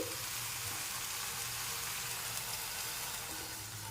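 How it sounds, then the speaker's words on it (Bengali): Lentils go into softened tomatoes sizzling in a pan, producing a faint, even frying hiss with a low steady hum underneath. "এবার আমি এর মধ্যে ডালটা ঢেলে দিচ্ছি"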